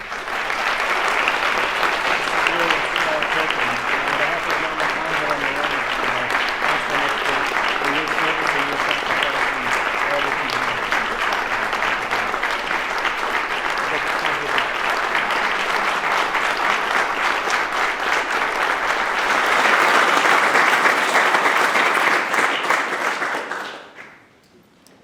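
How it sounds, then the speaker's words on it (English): Sustained, loud applause from an audience at a military retirement ceremony, a dense wash of clapping lasting about twenty-five seconds before stopping abruptly. "let's give them a round of applause"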